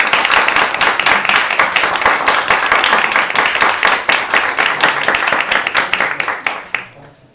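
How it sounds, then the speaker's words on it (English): An audience in a comic book library applauds, a dense, loud burst of clapping that holds steady for several seconds and then fades out quickly at the end. "please, one more applause for Željka,"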